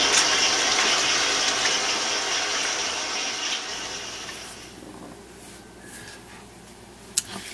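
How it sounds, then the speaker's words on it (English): Tap water running as hands are washed after kneading bread dough, a steady close rush and splash that fades after a few seconds, followed by quieter drips and a brief clink. "Let me wash my hands now, and then I'll come back."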